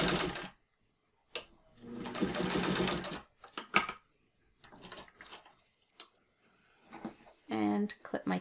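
Sewing machine stitching a martingale collar of webbing, in several separate loud, rapid bursts of running needle, broken by pauses with clicks and handling noises close by.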